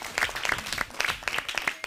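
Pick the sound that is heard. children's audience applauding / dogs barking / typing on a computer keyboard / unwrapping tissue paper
children's audience applauding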